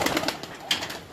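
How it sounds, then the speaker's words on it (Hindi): Pigeons on a rooftop in Sialkot give soft, repeated coos nearby, with faint rustling in the background. "अब हम उनके सियालकोट की छत वाले कबूतर आपको दिखा रहे हैं"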